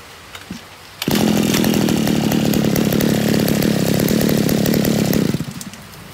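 A TD33 lawn mower engine starts after a second of quiet and runs loud and steady at high revs for about four seconds, then cuts off abruptly.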